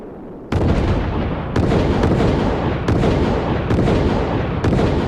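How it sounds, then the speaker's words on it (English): Project Orion test model driven upward by a rapid series of explosions: about five sharp, loud bangs at uneven intervals, each followed by a sustained roar that runs into the next blast. "There's a film that shows this thing going bang, bang, bang, and up it goes a ways"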